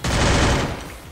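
A burst of rapid gunfire in a shooting video game played on an emulator hits loud and dense for about half a second, then fades quickly.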